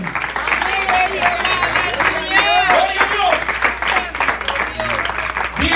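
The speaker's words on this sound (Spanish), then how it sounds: "Yo voy a aplaudir por algunos de ustedes que no pueden." Applause in a church service, the preacher's own clapping mixed with congregation clapping in a continuous, fairly loud stretch, with voices calling out over the claps.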